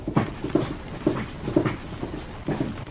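A dog sound effect repeats in steady pulses, about six short yelps or whimpers spaced roughly half a second apart, loud and close with no talk.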